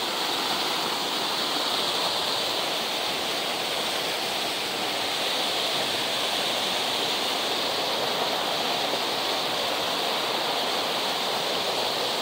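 Waterfall in Serra da Canastra pouring with a constant, loud, broadband rushing roar, steady and unbroken throughout with no voices.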